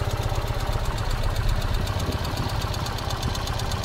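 A 2021 Ural cT motorcycle engine idles in fourth gear, a close, steady low-pitched chugging with rhythmic knocking pulses and no speech.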